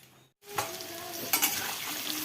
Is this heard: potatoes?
yes